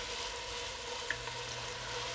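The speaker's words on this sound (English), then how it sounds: "Oh, you hear that? Nice gentle sizzle." Gentle, steady sizzling of chicken breast frying in a hot pan, a soft continuous crackle with faint pops, no voices.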